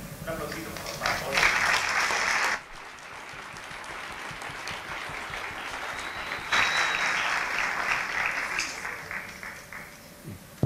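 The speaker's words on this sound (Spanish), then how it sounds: "Maestro Casado, un aplausito, por favor." Applause from a conference audience at a talk on Mexican cinema, two bursts of clapping separated by a quieter stretch with talk in the room.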